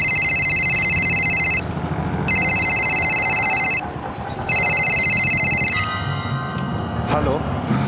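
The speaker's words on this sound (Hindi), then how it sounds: "फिर एकदम से अचानक मेरे पास निहारिका का फोन आ गया।" A telephone rings in repeated electronic bursts, loud and close, with a brief pause between rings before a short busy clatter.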